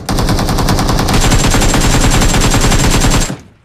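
Automatic gunfire in the mobile battle royale BGMI: a loud, close, continuous burst of rapid shots lasting about three seconds before cutting off abruptly.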